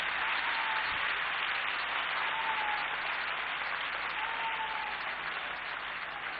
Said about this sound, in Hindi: एक बार जोरदार तालियां पूरा सदन बजाए।